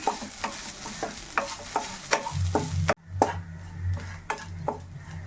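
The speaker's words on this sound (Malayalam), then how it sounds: "അപ്പോൾ ഇതൊന്ന് തേങ്ങ ഒന്ന് നമുക്ക് മൂപ്പിച്ചെടുക്കാം" Grated coconut roasts in oil in a pan for a Kerala theeyal, with close, repeated spatula scrapes and stirring clatter over a steady low sizzle. No one speaks.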